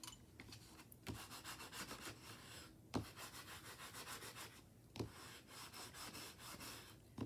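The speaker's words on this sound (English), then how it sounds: "I'm going to give that a burnish with my bone folder." A bone folder burnishes a paper note card in a dry rubbing rhythm of repeated strokes, with a few sharper taps between passes, close and fairly quiet.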